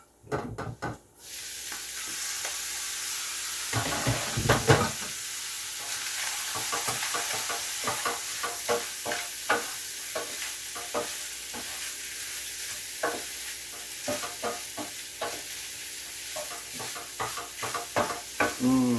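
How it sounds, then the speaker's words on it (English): Meat browns in a frying pan for Spam Hound Special, giving a continuous close sizzle broken by frequent scraping stirs of a utensil against the pan. "we're gonna give it another stir here"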